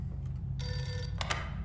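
A telephone rings inside the horror game The Mortuary Assistant. A clear, steady electronic ring plays for about half a second, then two short ring bursts follow, over a low ambient hum.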